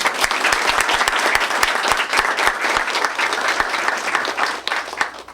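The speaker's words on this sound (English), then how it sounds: "they deserve a round of applause" An audience at a school board meeting gives loud, sustained applause for departing ROTC cadet leaders, a thick burst of many hands with sharp individual claps throughout, easing slightly near the end.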